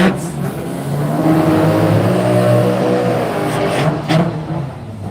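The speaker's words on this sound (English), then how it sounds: "It's a little Datsun 1000 wagon, I'm pretty sure, with a 13B" A small Datsun 1000 wagon fitted with a 13B rotary engine drives past at a race event, its buzzy engine note swelling loud and then fading over a few seconds.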